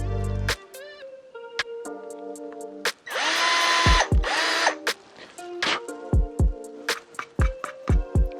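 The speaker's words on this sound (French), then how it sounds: "Je viens pré-percer les 3 trous." A power drill pre-drills three holes in a ski climbing skin with a small-diameter bit, giving short close whirring bursts that rise and stop, with a longer loud run midway and a few clicks and knocks between.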